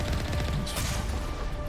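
Gunfire in the Mass Effect video game, a single powerful weapon shot with a sharp bright burst partway through, heard over a dense, continuous game soundscape of rumbling effects.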